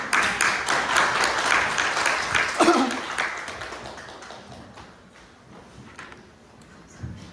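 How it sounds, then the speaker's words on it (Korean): Applause from an audience at a spring academic conference of a clothing and textiles society, welcoming a lecturer; dense clapping that swells early, then gradually thins and fades over several seconds, with a few scattered claps near the end. "박수로 환영해 주십니다."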